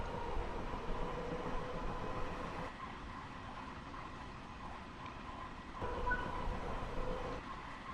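A New York commuter train runs steadily in the Train Sim World VR game, with a continuous rumble and rolling rail noise and a few soft clicks and shifts in tone.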